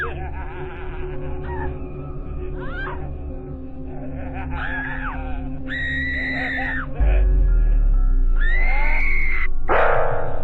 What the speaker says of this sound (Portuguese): a pobrezinha começa a gritar desesperada